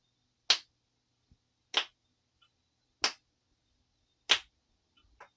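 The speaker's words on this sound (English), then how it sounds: "Let's add some snaps and claps using our new cool microphone." Finger snaps recorded through a TZ Audio Stellar X2 vintage microphone: four crisp, close snaps spaced evenly about every second and a quarter, separated by silence, with a faint fifth at the end.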